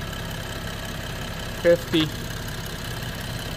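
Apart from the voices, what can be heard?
BMW 3.0L engine idling steadily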